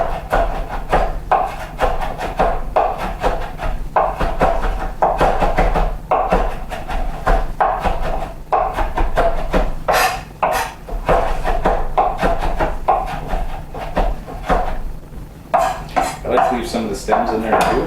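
A knife chops fresh herbs on a cutting board for pico de gallo, a fast steady run of close, crisp tapping strokes with brief pauses, over a low background hum.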